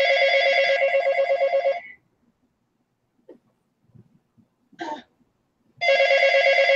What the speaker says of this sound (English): That was a phone call for Pam.